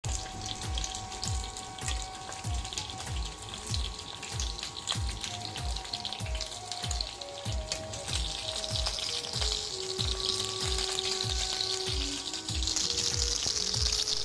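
Chicken pieces fry in a pan for nasi kandar style ayam 3 rasa, giving a steady sizzle with rhythmic popping and crackling while a soft melody plays in the background.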